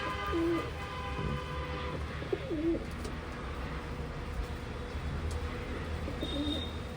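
A pigeon, a black kaldam kept in a loft, gives a few soft coos over a low, steady background rumble, faint and spaced apart.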